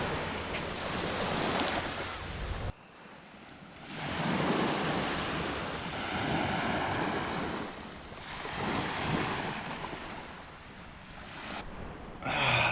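Waves washing onto a white sand beach on Koh Rong island, Cambodia, with surf rising and falling in broad swells, wind buffeting the microphone and a sharp drop in noise partway through.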